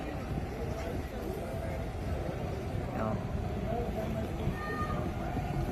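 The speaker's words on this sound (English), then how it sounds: "There's a tram in the city of Salzburg." Tram passing through Salzburg city streets: a steady, low rumble blended with general urban noise, fairly quiet and continuous for several seconds.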